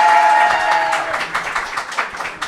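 A live audience at a French podcast recording applauds together, a dense wash of many hands clapping that holds steady and then begins to thin toward the end.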